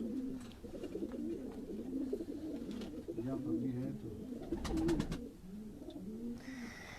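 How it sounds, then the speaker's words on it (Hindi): Several pigeons coo in soft, repeated rolling calls on a rooftop loft in Quetta, close by and steady, while someone talks quietly over them and a brief flutter of wings sounds near the end. "माशाल्लाह बहुत अच्छे कबूतर हैं"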